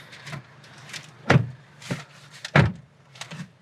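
A Jaguar F-Pace SUV door swings shut with a couple of solid, muffled thuds among quieter clicks and handling noises, heard close up with no one talking.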